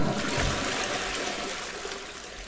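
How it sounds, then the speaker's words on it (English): A toilet flushes nearby, a steady rush and trickle of water running for a couple of seconds at moderate level. "Time to flush the toilet."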